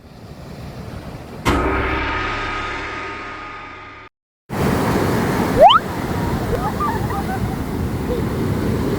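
Surf rolls onto a beach in La Union, a steady roaring wash buffeted by heavy wind noise on the microphone, broken by a brief cut midway, with faint voices now and then.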